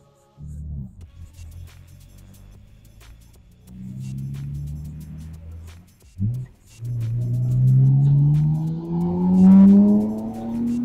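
A Nissan Skyline R34 GT-R slows and stops with a low engine rumble and brief tire noise, then its engine revs and accelerates loudly with rising pitch at close range.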